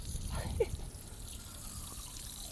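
Water from a public drinking fountain in Rome runs in a steady, soft trickle among outdoor background noise. A short voice rises briefly near the start.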